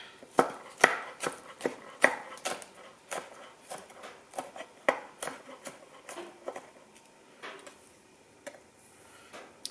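A knife dicing a garlic clove on a cutting board gives sharp, quick taps in an uneven rhythm, close and clear with no talking.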